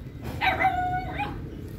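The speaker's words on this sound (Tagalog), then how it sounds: "ang aso ko, kung nasaan ako, nandun siya" A dog lets out one drawn-out whining bark or yelp, fairly close and moderately loud, against low background noise with no speech.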